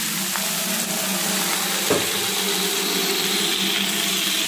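Mustard greens go into a hot pan with onion, garlic and ginger, frying for a dried pork dish; a loud, dense, continuous sizzle holds steady throughout, with a single sharp clatter partway through.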